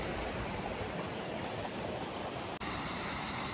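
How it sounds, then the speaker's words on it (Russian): A small waterfall in the Andes foothills gives a continuous broad rushing hiss of falling water, steady and fairly close, with no voices. "Небольшой водопад."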